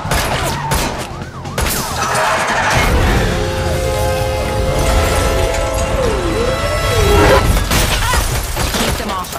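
Gunfire rattles in The Matrix Awakens, an Unreal Engine 5 game, during a car chase as tires are shot. Rapid shots and crashes sound over engine roar and wailing sirens, loud and dense throughout.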